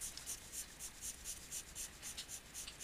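A rounded pencil shading the lower area of a drawing on paper, giving soft rhythmic scratchy strokes, steady back-and-forth at close range with no voices.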